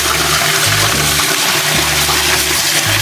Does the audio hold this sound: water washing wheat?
yes